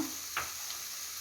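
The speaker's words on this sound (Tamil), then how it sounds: "இப்போ வந்து முட்டையை நம்ம அதில் ஊற்றிடலாம்" Beaten egg hits a hot pan and sizzles with a soft, steady hiss and a couple of faint ticks, quiet and brief with no talking.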